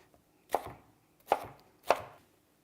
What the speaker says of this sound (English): We just chop these up, and you can chop them up any way you want